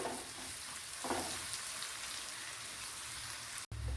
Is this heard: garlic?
yes